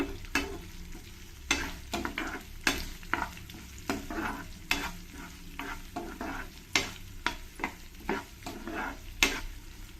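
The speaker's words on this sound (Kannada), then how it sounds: "ಎಣ್ಣೆಯಲ್ಲಿ ಇದನ್ನೆಲ್ಲ ಸ್ವಲ್ಪ ಚೆನ್ನಾಗಿ ಬಾಡಿಸ್ಕೊಳ್ತೀನಿ" Onions and other ingredients sautéing in oil for an ivy gourd and cashew curry, with a steady close sizzle and repeated scraping stir strokes of a spatula in the pan; no talking.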